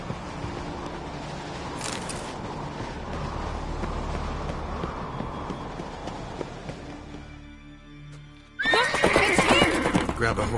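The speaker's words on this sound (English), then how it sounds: "Grab a horse, we'll chase him down." A horse in The Witcher 3 whinnies loudly and its hooves clip-clop along, game music and voices running underneath, with a sharp bright burst of neighing near the end.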